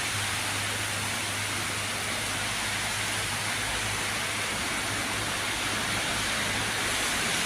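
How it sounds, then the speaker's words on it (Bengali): Heavy rain pours steadily in the late afternoon, a dense, even hiss that fills the whole stretch without a break, close and loud, with no talking over it. "বাপরে বৃষ্টি হইতেছে।"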